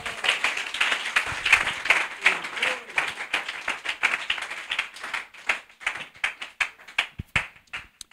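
A church congregation claps and cheers in a dense burst of applause, with many sharp hand claps close by, thinning toward the end into scattered individual claps.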